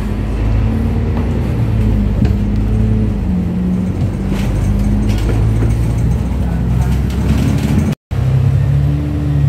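Double-decker public bus driving on a highway toward Hong Kong International Airport, a steady loud engine drone with low gear-whine tones rising and falling throughout, rattling mechanical noises on top, and a brief cut near the end.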